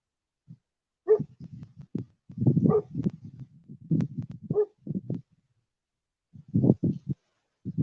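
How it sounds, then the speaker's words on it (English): Dogs barking outdoors at night, a string of loud, close barks and yelps in uneven bursts with short gaps, a final cluster after a brief pause. "Ted, Grizzles, you're barking at your own fucking echoes."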